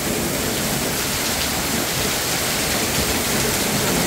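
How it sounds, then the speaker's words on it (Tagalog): A steady downpour roars continuously, loud and close, like rain drumming hard on a roof. "Ang lakas po ng ulan"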